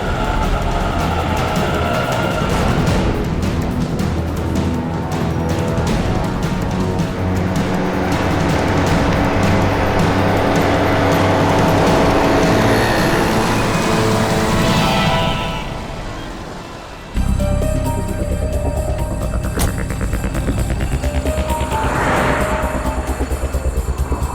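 A car drives steadily along, following another car in a crime drama, its engine rumble and road noise loud and continuous throughout, with a brief dip before the sound resumes.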